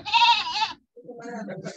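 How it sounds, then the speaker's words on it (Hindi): A goat bleats loudly with a wavering, quavering tone, followed after a short gap by overlapping voices talking indoors. "बकरी कहाँ से आया जी?"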